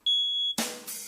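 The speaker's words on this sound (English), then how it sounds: "you're not supposed to use a smoke detector when you're done cooking the eggs" After eggs are cooked, a smoke detector gives one piercing high-pitched beep, close and loud, and then a burst of broadband noise follows.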